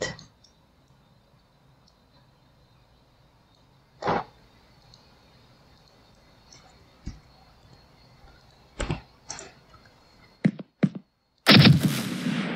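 Pistol shots fired in an Unreal Engine 5 game test: a few sharp, isolated bangs spaced seconds apart over a quiet background, ending in a louder burst of noise.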